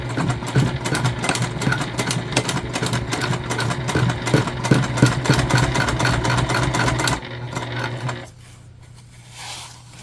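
A sewing machine top-stitches an eighth of an inch in from the edge of a tropical-print Kindle sleeve made of fabric that can't be ironed. Its motor runs steadily with a rapid stitching rhythm for about eight seconds, then stops, leaving quiet.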